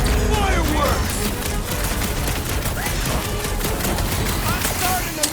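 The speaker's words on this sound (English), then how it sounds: "Fireworks!" Fireworks burst in the Guardians of the Galaxy video game, a dense, continuous barrage of crackling pops and bangs with whistling streaks running throughout, loud and busy from start to finish.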